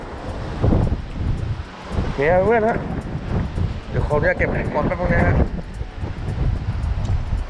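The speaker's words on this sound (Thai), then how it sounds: "อากาศก็เย็นเนาะลมก็แรง" Strong wind buffeting the microphone on a seaside fishing pier at Hua Hin, a steady roaring rush with lapping surf beneath, heard under someone talking throughout.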